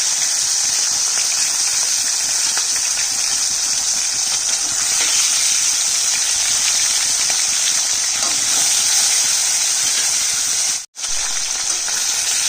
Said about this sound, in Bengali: তেল কিন্তু গরম হয়ে গেছে, এবারে আমি গ্যাসটা কমিয়ে দিচ্ছি আর একটা একটা করে মাছ দিয়ে দিচ্ছি